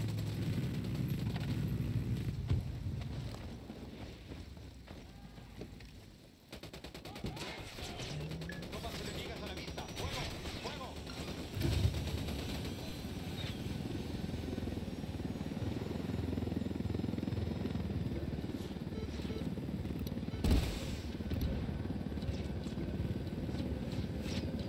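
Gunfire in Ghost Recon Wildlands during a firefight in the Eastern Precinct rings out over the steady roar of a helicopter, with scattered loud shots and bursts over a constant engine drone.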